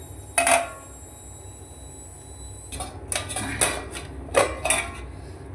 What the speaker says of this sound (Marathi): तोपर्यंत मी ह्याच्यावर झाकण ठेवते